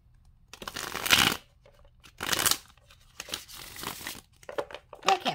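A deck of tarot cards being shuffled by hand in close bursts of riffling and crinkling, several separate rounds with short pauses between them, no talk.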